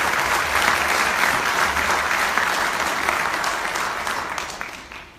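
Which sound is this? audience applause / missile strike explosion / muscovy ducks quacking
audience applause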